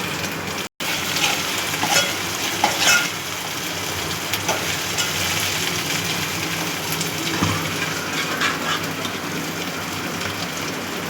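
Onion frying in a pan with green chili and garlic gives a loud, constant sizzle with crackling pops, broken only by a brief cut near the start, and no one speaks.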